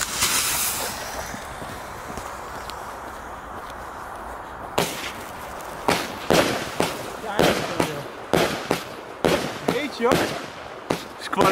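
A 36-shot Toxic Stroop fireworks cake with 480 grams of effect fires in a rapid series of sharp, loud bursts after a fuse hiss, with roughly a dozen distinct reports spaced about every half second, some crackling tails between them.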